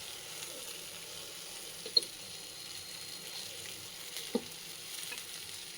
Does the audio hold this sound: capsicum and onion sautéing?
yes